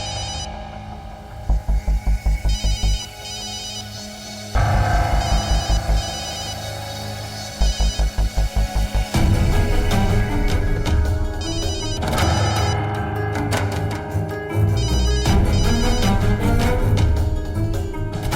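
A telephone rings in repeated bursts of rapid trilling bells, each ring followed by a pause, and then gives way to dense music and a rising, dramatic score.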